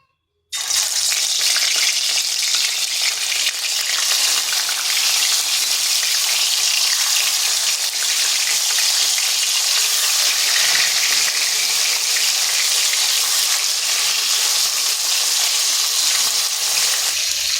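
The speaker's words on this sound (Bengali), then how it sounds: "ওদিকে মাছ ভাজা হচ্ছে" Turmeric-rubbed rohu fish fries in hot oil in a kadai, giving a loud, steady, hissing sizzle that runs unbroken throughout with no talking.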